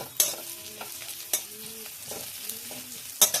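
Kashmiri chili powder fries in oil in a pan with a soft, steady sizzle, broken by several scraping stirs of a spoon against the pan, close and without talk.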